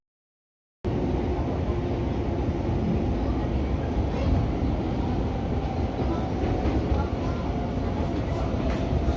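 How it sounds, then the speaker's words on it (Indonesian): The Argo Sindoro passenger train passes on a line toward Semarang, a loud, continuous rumble and rattle of railcars heard close by from a commuter line, starting abruptly and holding steady. "kereta api Argo Sindoro ya yang melintas tujuan stasiun Semarang"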